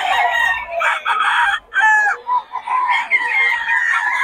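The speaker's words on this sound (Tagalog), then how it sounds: "Mga manok ni Boss Bata ngayon, Golden Boy, 5K." Several gamecocks of the Golden Boy line crow at a cockfighting rooster market in Bocaue, overlapping calls in loud, drawn-out bursts with brief clucks between them, close by and with no talk.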